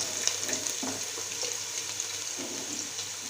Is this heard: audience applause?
no